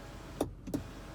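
Motorized sunshade under the panoramic roof of a 2019 BMW X5 50i M Sport, two brief soft whirring motor pulses a moment apart inside a quiet cabin.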